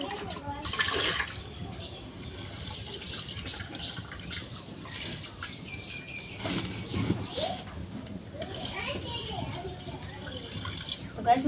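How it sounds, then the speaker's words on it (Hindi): Water splashes and gurgles steadily as it is poured into a metal pressure cooker over washed rice, with clinks and soft kitchen noises around it. "और पानी डाल देती हूँ कुकर में।"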